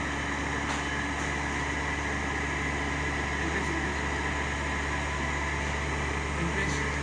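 DC motor driving an alternator in a lab setup while the motor speed is varied, a constant mechanical hum and hiss with steady tonal whine, continuous and even at close range.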